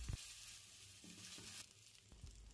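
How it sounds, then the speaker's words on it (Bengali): Salt- and turmeric-coated fish pieces frying in hot oil in a wok, a steady close sizzle with a few stirring knocks. "এবার কড়াইতে তেল গরম করে আগের থেকে নুন আর হলুদ দিয়ে মাখিয়ে রাখা মাছের টুকরোগুলোকে লাল লাল"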